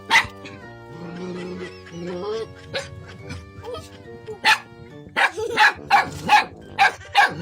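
A dog barks repeatedly in quick, sharp bursts nearby, preceded by quieter yips and background chatter.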